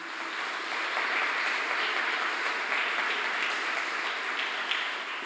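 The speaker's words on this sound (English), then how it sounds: "So, a round of applause for you" Steady applause from a sizable conference audience at a forum closing session in Riga, a dense wash of clapping that holds evenly throughout with no voices.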